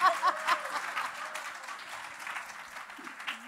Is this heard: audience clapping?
yes